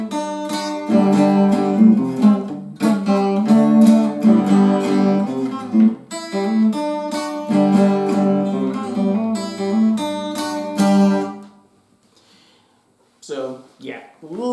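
The lead part of an intro played at full speed, a fast run of picked notes in bursts over about eleven seconds, close and clear. It stops, and a few faint sounds follow in the closing seconds.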